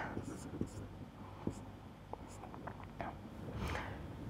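Pen or chalk writing out an equation, a series of short scratchy strokes and taps spread through the moment, fairly quiet, with a faint voice murmuring underneath.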